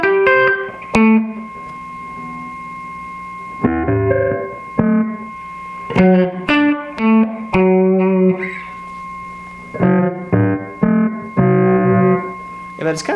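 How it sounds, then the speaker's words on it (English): A steady high electronic whine and hum from a Moog Moogerfooger MF-104M delay pedal persists beneath choppy, distorted effected guitar notes played in short bursts, loud and close. "It introduces this hum, this whine you can hear"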